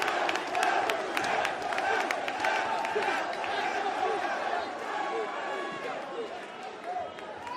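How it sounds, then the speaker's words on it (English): A large indoor wrestling arena crowd roars and cheers continuously, with scattered claps and shouts blending into a loud, sustained wall of noise. "Listen to this crowd!"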